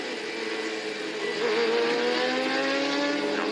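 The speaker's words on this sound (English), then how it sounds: "the safety car is continuing to lead the field past the chicane down the long front straight here towards turn number 4" A pack of race cars trails a safety car down a long front straight at an SCCA Majors event, engines droning steadily from a distance with overlapping tones slowly rising and falling.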